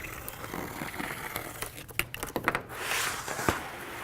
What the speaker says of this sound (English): what we're going to do is unroll the membrane